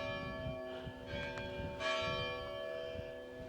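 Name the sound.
church bells ringing in Spanish village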